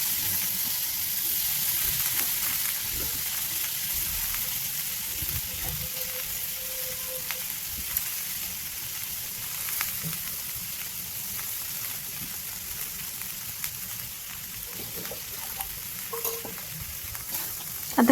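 Spiny gourd (kantola) stir-fried with spices in a pan, a steady low sizzle with occasional stirring scrapes running throughout, fairly quiet, with no talking.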